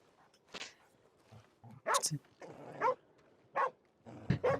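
A dog in the video game Red Dead Redemption yaps in several short, sharp bursts spaced apart, moderately loud over a quiet background.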